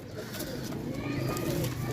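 Pigeons coo softly over a constant low rumble of background noise, their calls repeating in a gentle rhythm.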